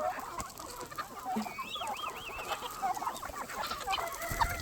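A large backyard flock of chickens clucks steadily and overlapping in a busy, continuous din, with occasional higher calls standing out over the noisy farmyard ambience.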